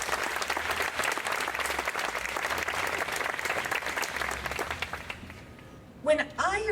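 Loud, sustained audience applause fills the hall at the Main Hall rededication ceremony, a dense steady clatter of many hands that fades out near the end before a brief voice speaks.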